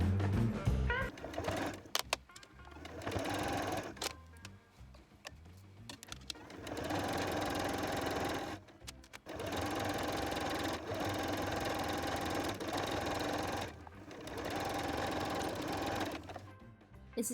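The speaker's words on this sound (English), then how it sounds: "Then we're going to sew a stitch directly down the center of the 2 stitches we just did." A sewing machine stitches a gathered, ruched-front mini skirt, running in long steady bursts with short stops between them, whirring close and alone with no talk.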